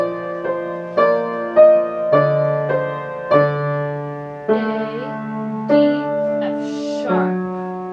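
A piano plays a short melodic phrase, distinct notes, clear and close, with a steady rhythm and no talking.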